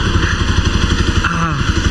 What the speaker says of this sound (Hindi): Engine sounds much relaxed now.